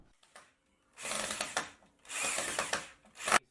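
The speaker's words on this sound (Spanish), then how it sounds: "ya puedo meter el tornillo en el taquete hasta el fondo" A power driver spins a screw into a wall anchor through a closet door frame in short, rattling bursts, two longer runs and a final quick burst, with a faint click before them.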